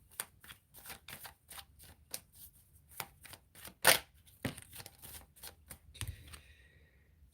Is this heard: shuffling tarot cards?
yes